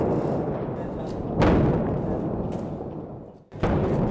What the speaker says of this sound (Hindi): धमाकों की आवाज सुनी जा सकती है।